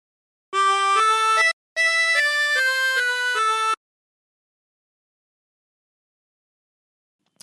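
A 16-hole tremolo harmonica plays a short phrase of God Rest Ye Merry Gentlemen, with reedy, wavering sustained notes in two quick bursts, close and clear, then silence.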